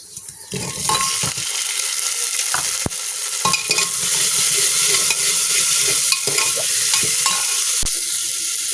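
Potatoes frying in a pan with chopped garlic and green chillies for a ghugni, a steady loud sizzle with stirring scrapes and a few sharp utensil knocks, no talking.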